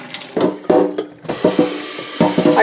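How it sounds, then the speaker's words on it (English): Cold tap water splashes into a kettle being descaled with oyster shell, a close, uneven gush and spatter with bursts of flow and brief pauses. "I'm putting some cold water in here"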